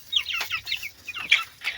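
Young cockerels, a pair of brown chicks with white breasts, chirp and cluck in short, close, bright bursts with brief gaps between calls.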